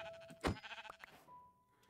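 Minecraft sheep giving a single short bleat, close and fairly quiet, followed by faint game ambience.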